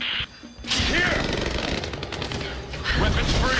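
Rapid gunfire in Rise of the Tomb Raider, a dense loud barrage of automatic shots that starts abruptly and continues throughout, with voices shouting over it.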